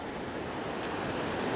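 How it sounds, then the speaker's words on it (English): The Truckee River at Floriston, California rushes steadily outdoors, a broad, loud, continuous wash of flowing water with some wind noise on the microphone. "This is the Truckee River."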